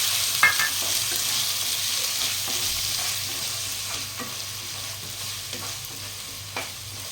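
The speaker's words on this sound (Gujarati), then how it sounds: "આપણે 3 નંગ મેં ડુંગળી લીધી છે, અને તે ચોપરમાં ક્રશ કરી એ નાખીશું." Crushed onion and cumin seeds fry in hot oil, a continuous crackling sizzle with a low steady hum beneath and occasional sharper scrapes and clicks of stirring, no voices.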